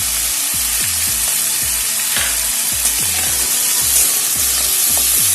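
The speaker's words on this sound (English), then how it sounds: "So we'll fry this for some time, saute this for some time" Peas for khichdi sauté in a hot pan, crackling loudly and steadily, with regular scraping thumps as they are stirred around, close by and with no voices.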